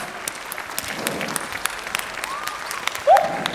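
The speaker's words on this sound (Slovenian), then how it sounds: "Še vas en velik aplavz!" Applause from the audience after a children's stage show: light, scattered clapping with distinct individual claps, plus a brief rising tonal call near the end.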